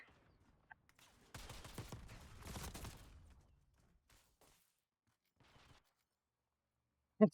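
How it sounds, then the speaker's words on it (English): Rocket fire from a Goblin Mk2 helicopter in a video game: a burst of launches and whooshing rushes over about two seconds, then a sharp loud crack at the very end, with no voices. "You can hear the rockets just leaving the goblin, just singing"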